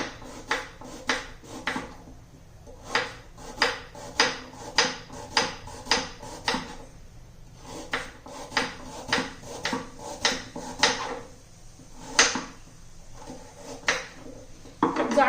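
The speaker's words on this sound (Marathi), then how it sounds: "तर सर्व गाजर मी असे कापून घेते" Knife chopping peeled carrots into thin pieces on a board, a steady run of close, sharp taps in quick bursts with short pauses between them.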